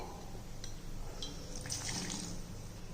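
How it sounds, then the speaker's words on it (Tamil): Water poured into an oats mixture sweetened with palm sugar candy, a soft, steady trickle and splash close by, fairly quiet and continuous with no talking. "கொஞ்சமாக தண்ணி ஊற்றிக்கிடுவோம்"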